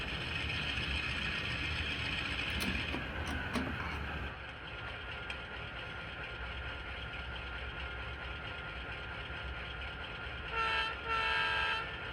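A freight train rumbles along steadily at a distance on a spur line, with faint squeals and clanks, and a brief higher tonal burst near the end.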